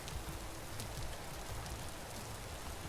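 Rain falling in the game Vintage Story, a soft, even hiss of drops on surfaces that holds steady and faint throughout, with no talking.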